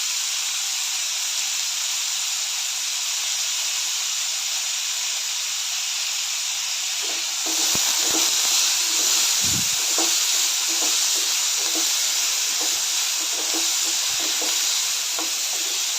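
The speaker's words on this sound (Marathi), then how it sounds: "तेल गरम झालेलं आहे यामध्ये कांदा टोमॅटो आलं आणि लसूण लालसर रंग येईपर्यंत भाजून घ्यायचं आहे" Onion, tomato, ginger and garlic frying in hot oil for a dhaba-style green bean curry, a constant bright hiss that grows louder partway through as stirring adds soft scrapes and knocks, close and without speech.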